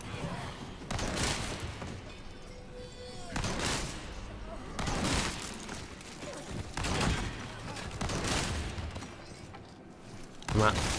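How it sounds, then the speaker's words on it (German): Shotgun blasts in the video game Resident Evil 4 Remake, several heavy booming shots spaced a second or two apart, moderately loud under ongoing narration and game background noise. "Schrotflinte."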